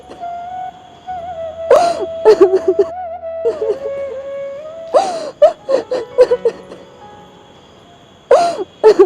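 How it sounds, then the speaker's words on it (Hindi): A child or woman cries and whimpers in sobbing bursts amid a steady tonal drone, with a few short spoken exchanges between the crying episodes, in a street scene involving a transgender group. "किसी के रोने की आवाज़ आ रही है वहाँ से"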